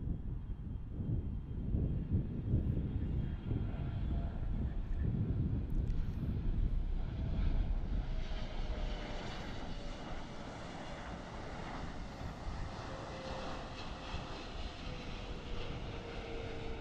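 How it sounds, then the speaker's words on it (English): An Emirates Boeing 777-300 airliner arriving at DFW airport, its engines giving a steady, loud jet roar that holds throughout with slight wind buffeting on the microphone and no talking. "This is Emirates. Emirates on a 777-300."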